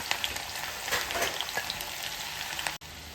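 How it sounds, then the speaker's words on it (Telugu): Thinly sliced onions frying in oil for lauki kofta curry, a steady close crackling sizzle with small pops and faint stirring, briefly cutting out near the end. "ఇందులో సన్నగా కట్ చేసి పెట్టుకున్న ఉల్లిపాయలు వేసి వేయించుకోవాలి"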